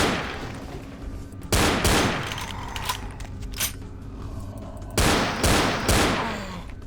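Rapid .45 pistol gunfire in the Vampire the Masquerade video game comes in loud bursts of closely spaced shots, with quieter mechanical clicks between the volleys.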